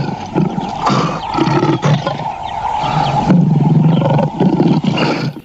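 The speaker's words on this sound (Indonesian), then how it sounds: "Keluarlah seekor singa." A toy lion plays a recorded lion roar, a loud, continuous growling roar that runs for several seconds with rough pulsing bursts and no talk.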